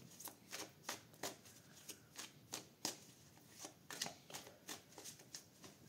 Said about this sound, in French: on va poser les cartes, s'il vous plaît, merci